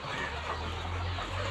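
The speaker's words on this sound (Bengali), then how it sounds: "দেখেন কি অবস্থা, মুরগি মারামারি দিচ্ছে" Native chickens clucking close by while scuffling over food, a steady run of busy, overlapping clucks and scratching with no voices.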